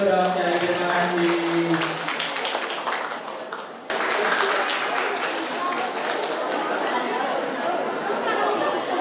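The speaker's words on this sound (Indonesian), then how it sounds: "Kita beri tepuk tangan dulu dong." An audience at an academic seminar for a university graduation ceremony breaks into sustained applause, steady and dense, with crowd chatter mixed in and a voice speaking over it at the start.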